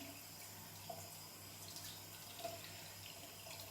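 Makeup brushes are rinsed under a running tap, giving a faint, steady hiss of water with small splashy bumps and a low background hum.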